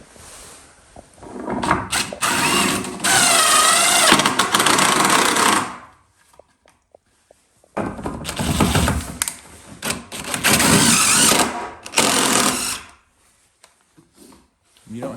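A power driver runs 5-inch ledger lock screws into wood in two long, loud bursts of whirring, grinding drive, each ending abruptly, with quiet gaps and small clicks in between.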